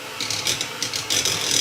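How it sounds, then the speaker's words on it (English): A hand mixer beats sugar-free mocha cheesecake mixture in a bowl, giving a close, gritty mechanical whir with uneven bursts as the beaters catch the thick batter, with no talking. "we're gonna mix that together with a hand mixer"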